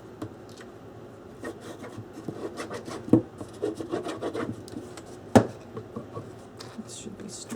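A glued paper hinge on a handmade memory box is rubbed and pressed flat with a burnishing tool. Soft scraping and rubbing strokes are heard up close, with a couple of sharp taps, under quiet background noise.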